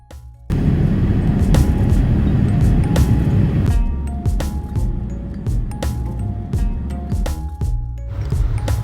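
Inside the cabin of an Ethiopian Airlines Boeing 787-9 climbing away from Ethiopia, a loud, steady broadband engine and air roar fills the space, broken by scattered light clinks and rattles.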